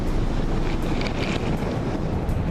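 Strong wind buffets a boat at sea during Hurricane Alberto, with crashing waves and heavy microphone wind noise in a constant, loud roar.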